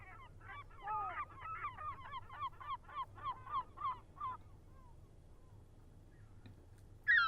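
A rapid series of geese honking, many calls overlapping in a busy flock chorus for a few seconds, then fading to a quiet low hum.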